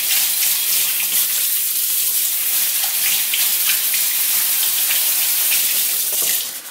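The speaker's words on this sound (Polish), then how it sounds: "Wystarczy chwileczkę ją przepłukać wodą." Quinoa is rinsed under a running kitchen tap: a steady, close gush of water splashing over the grains for several seconds before cutting off.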